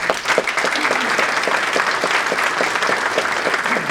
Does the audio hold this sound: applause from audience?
yes